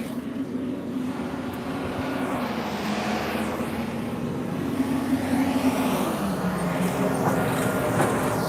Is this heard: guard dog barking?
no